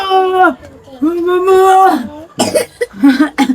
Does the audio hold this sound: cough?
yes